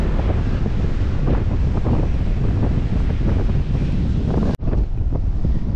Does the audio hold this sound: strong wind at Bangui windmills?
yes